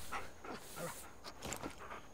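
A tamed wolf in the prehistoric game Far Cry Primal makes soft whimpering, panting dog-like sounds in short repeated bursts under steady ambient game noise.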